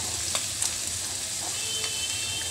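Onion and garlic paste frying in a pan with soybean and potato, a soft steady sizzle with a few faint ticks and pops, close and brief, no talk.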